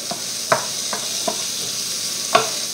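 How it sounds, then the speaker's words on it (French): Mushrooms sizzling in a frying pan while being stirred for a coconut curry chicken dish, a steady hiss of frying punctuated by several light scraping strokes of the spoon, close and clear. "On ajoute nos champignons. Sans oublier de remuer."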